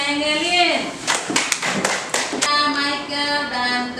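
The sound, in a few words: group applause for a presenting team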